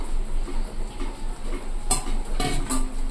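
A spoon stirs chili chicken in a pan after cornflour water is added, giving soft scraping and a few sharp metallic clinks over a low background hum.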